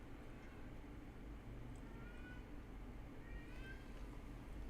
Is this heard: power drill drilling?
no